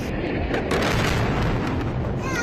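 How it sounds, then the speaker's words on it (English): Bombing explosions nearby during an attack in a residential area, heard as a sustained, loud rumbling roar of blasts with broadband noise throughout, no clear separate bangs. "They are bombing in my area"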